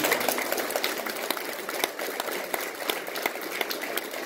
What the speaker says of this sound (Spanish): Démelo un aplauso.